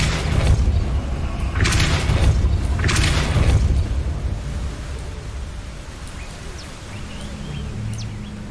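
Depulso spell cast in the video game Hogwarts Legacy: two loud booming blasts in quick succession, followed by a low rumbling tail and quieter ambient game sounds, with no talk.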